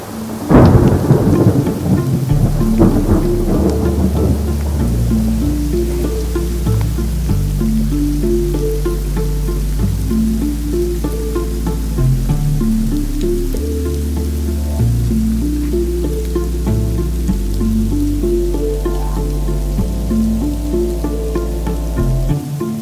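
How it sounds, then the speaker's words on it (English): Heavy rain pours steadily with thunder rumbling low and continuous throughout, a sharp crack near the start, dense and loud with no voices. "we encountered rain. Rain and more rain."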